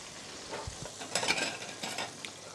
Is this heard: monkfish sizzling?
yes